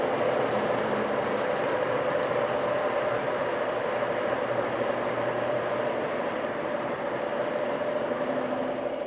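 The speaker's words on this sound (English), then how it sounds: "Here's the U.S. Army engine pulling 10 cars." A Lionel U.S. Army model train locomotive pulls ten cars along the track with a steady electric motor hum and continuous rolling rumble, close and unbroken throughout.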